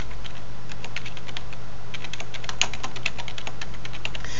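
Rapid, steady typing on a computer keyboard, close and clear, a run of light clicks with a couple of sharper key strikes, over a constant low electrical hum and no talk.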